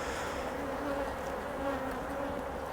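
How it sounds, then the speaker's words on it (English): A dense, steady hum of honeybees in a recently split colony hive fills the air, continuous and close, with no talking. "it'll upset the bees a little bit, so we'll just give them a bit of smoke just to try and calm them down."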